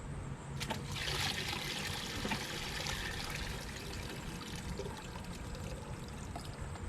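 Water carrying suspended fine clay particles poured off from a container during clay refining, a steady close trickling pour lasting several seconds with no talk.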